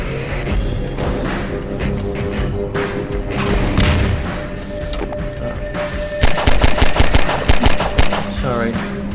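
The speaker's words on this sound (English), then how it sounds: "Shotgun." Shotgun blasts in the Half-Life 2 single-player mod Dead End Road, a burst of loud, closely spaced shots near the end amid continuous game combat noise and sound effects.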